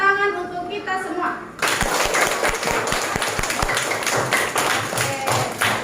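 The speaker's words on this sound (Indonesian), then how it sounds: "Berikan tepuk tangan untuk kita semua." Classroom applause from students, starting abruptly after a brief spoken line and continuing as steady, fairly loud clapping with some distinct individual claps near the front.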